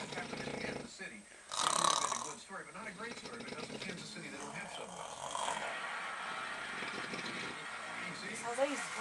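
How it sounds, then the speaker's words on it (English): A man snores in a long, rough, rumbling breath that swells around the second mark and then settles into a steady, close drone with a few throaty bursts; background talk also runs through it. "That's how he snores."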